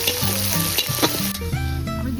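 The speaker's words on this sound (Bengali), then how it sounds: "মাটন রান্না করছে।" Mutton frying in a pot at home, a loud, close, continuous sizzle and crackle of hot oil, with faint stirring.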